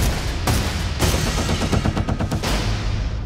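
Rapid bursts of gunfire crack out in a Western film shootout, several loud shots and quick volleys in succession over a dense background of action noise.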